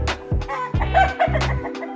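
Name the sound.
roosters and hens squabbling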